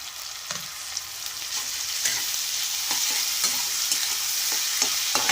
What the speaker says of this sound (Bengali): মশলাটাকে আমি ভালো করে পেঁয়াজ টমেটোর সঙ্গে মিশিয়ে নেব